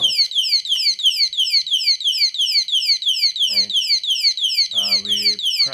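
A phone display stand's anti-theft security alarm in a retail shop blares a loud, rapid, repeating electronic siren sweep, continuous throughout, with brief speech heard underneath partway through.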